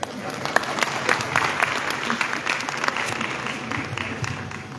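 An audience at a multi-stakeholder government consultation gives a speaker a round of applause, a dense, steady wash of clapping lasting several seconds, with a voice faintly underneath.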